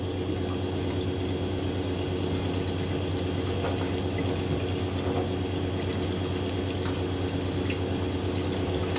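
A washing machine fills with water to wet the load, a steady, even rush of inflowing water that holds at constant loudness throughout, with no talking.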